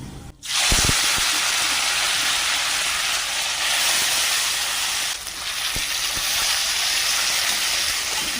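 Small chuno fish hit hot cooking oil with black cumin seeds, setting off a loud, sudden hiss that settles into a steady, close sizzle with a brief dip midway.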